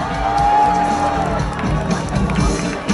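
At a Chung-Ang University alumni award ceremony, the audience cheers and applauds as flowers are presented, a loud, dense crowd roar that swells early and then eases slightly.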